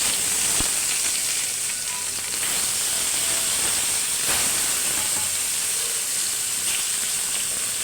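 Fish frying in hot salted oil in a wok, a steady broadband hiss of sizzling fat running close and loud through the whole stretch with a few sharp crackles and pops, no voices.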